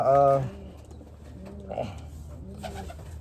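A racing pigeon coos in low, throaty, repeated calls nearby, with people's voices mixed in around it.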